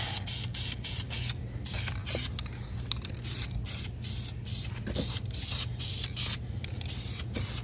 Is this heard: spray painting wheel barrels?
yes